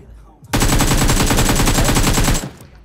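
Gunfire in the video game BGMI: one loud, sustained automatic burst of rapid shots lasting about two seconds, close and alone, with brief quiet before and after.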